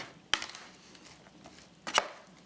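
A utensil stirs sausage and peppers in a pan, giving two sharp metallic clanks over quiet kitchen background noise.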